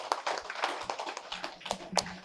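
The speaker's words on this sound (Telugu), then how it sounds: "గట్టిగా చప్పట్లు కొడదాం." An audience at a meditation training class claps in a quick, uneven patter of many hands, moderately loud and alone.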